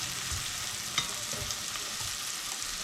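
Onions frying in a pan with curry as food is stirred, a steady soft sizzle broken by a few scraping stir strokes, one sharper clack near the start, with no talking.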